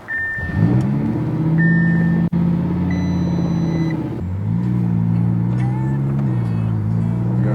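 A twin-turbo Audi R8 engine fires up and settles into a loud, close, rumbling idle, then shifts to a slightly different pitch partway through as the revs change.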